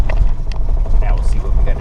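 A car rolls onto a gravel road on the way to dispersed camping in Croatan National Forest, with low, rumbling tire and road noise close by and brief crunches under it, and a voice speaking over it.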